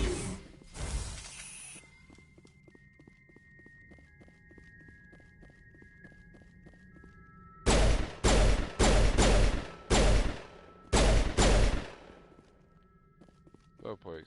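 Gunfire in Mass Effect 1: a cluster of loud, close, sharp shots fires in quick uneven bursts partway through, after a long quiet stretch with a soft thud near the start.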